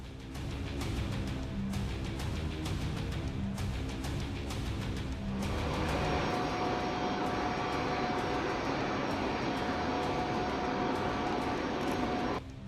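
Aircraft engine of Putin's plane, a steady roaring jet whine that fills the sound throughout, with a sharp shift midway to a brighter, higher-pitched tone as the engine sound changes, loud and continuous.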